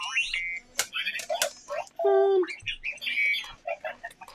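An animatronic L0-LA59 droid toy from Kenobi beeps, warbles and chirps in rapid electronic bursts, with sweeping tones and a sustained buzzing note, close and fairly loud.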